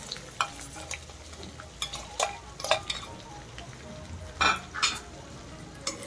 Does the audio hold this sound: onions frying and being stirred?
yes